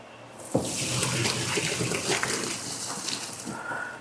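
Food is rinsed under a running kitchen tap, a close steady gush of water splashing into the sink that starts abruptly and continues for several seconds, with no talk over it.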